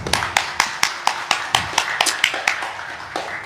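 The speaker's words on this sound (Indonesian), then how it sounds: "kita tepuk tangan buat kita semua" A live audience applauds in a hall, a run of sharp hand claps in an uneven, moderately paced rhythm that carries on steadily without speech over it.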